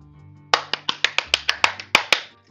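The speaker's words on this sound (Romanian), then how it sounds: "Aplauze!" Scattered hand clapping during a livestreamed poker session, about a dozen distinct sharp claps in an uneven rhythm, close and fairly loud, with no talk over them.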